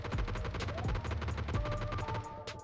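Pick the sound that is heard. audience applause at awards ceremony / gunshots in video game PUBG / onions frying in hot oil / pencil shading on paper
gunshots in video game PUBG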